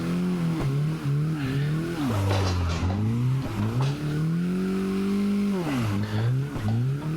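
A Mazda MX-5 Miata at a drift park, engine revving hard at full throttle with rising and falling pitch as it drifts, tyres squealing, close and loud with no talking.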